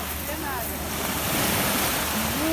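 Sea waves rolling onto the beach at Sochi make a loud, continuous rush of surf and wind noise, while voices speak faintly beneath it.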